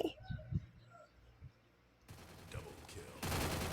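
Gunfire in the mobile shooter game Free Fire, bursts of rapid shots arriving late and growing louder toward the end, with a player's voice and game sounds earlier.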